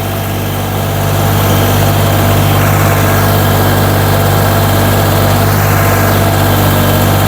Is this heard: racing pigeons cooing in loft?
no